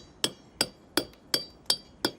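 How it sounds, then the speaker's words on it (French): Stone being dressed with a marteau taillant hammer, struck in six sharp, evenly spaced blows with a ringing edge, close by and with no talking. "je vais venir marteler ma pierre avec cet outil qui s'appelle un marteau taillant"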